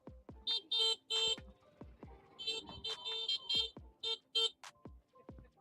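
Car horns beep from passing traffic in a series of short, loud toots, several in quick bursts with brief gaps between them, over faint street noise.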